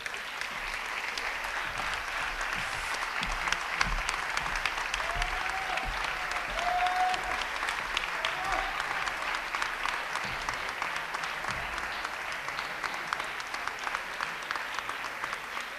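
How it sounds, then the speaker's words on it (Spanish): Sustained applause from an audience at an international flamenco competition, greeting the announced finalists; dense, steady clapping fills the whole stretch at a constant level, with faint voices underneath. "Por favor, con un aplauso."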